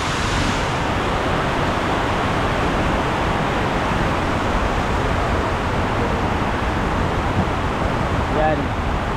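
Broad, steady roar of a flooded river swollen by Typhoon Carina's heavy rain, continuous rushing water noise filling the whole clip with no breaks.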